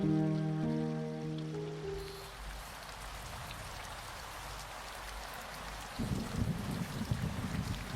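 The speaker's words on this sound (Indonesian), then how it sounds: "Hujan." Steady rain hisses down, taking over as sustained tones fade out, then the patter grows heavier and more crackling near the end.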